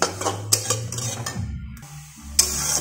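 A utensil scrapes and clinks against a pan as dry semolina is stirred and roasted, with a few sharper knocks and no talking.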